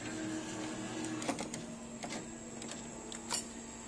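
An Animal House claw machine at Silver Dollar, with its motor hum running steadily while the claw moves and clamps down on a prize. A few sharp clunks and rattles punctuate the drone, close and moderately loud.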